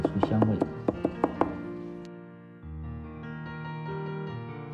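Garlic cloves smashed and chopped into paste with a kitchen knife on a board, a quick burst of sharp, close, rhythmic chops at the start, then a sustained tonal sound with no chopping.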